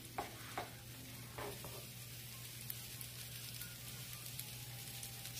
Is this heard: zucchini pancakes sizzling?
yes